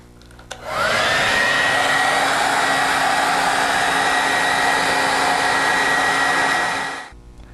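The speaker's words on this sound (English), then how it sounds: "it's possible to hurry along the drying process by either using a heat gun or a hair dryer." A hair dryer runs steadily at close range for about six seconds, drying a drywall skim coat on a patched wall, switching on with a whoosh and cutting off at the end.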